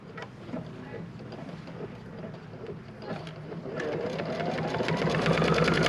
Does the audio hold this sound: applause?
no